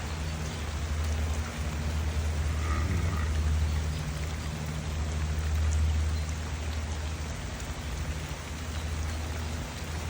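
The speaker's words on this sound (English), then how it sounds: "You see the rain picking up. It was raining hard." Heavy rain pours down steadily during a wild outdoor breath-hold session, a dense continuous hiss with a low rumble beneath, loud and unbroken for the whole stretch with no voices.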